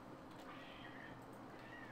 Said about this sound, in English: that is the sound of cats just tearing the fuck into each other out there